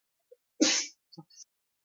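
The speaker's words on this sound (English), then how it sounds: "Sorry, I was sneezing." A single sharp sneeze, close and fairly loud, with a brief breathy intake before it and a faint sniff afterward; otherwise quiet.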